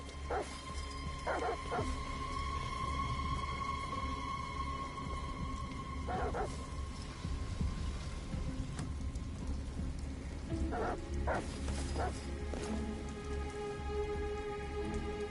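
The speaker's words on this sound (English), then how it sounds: "Goddamn dogs. What the fuck are they barking at?" Dogs bark repeatedly in bursts during a heavy rainstorm in the video game Detroit Become Human, the barking cutting through steady rain with distant thunder.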